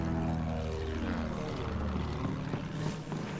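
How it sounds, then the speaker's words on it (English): A fighter plane in the video game Battlefield 1 roars past, its propeller engine drone loud and close with a descending pitch sweep as it flies overhead, filling the short clip alone. "Oh, plane!"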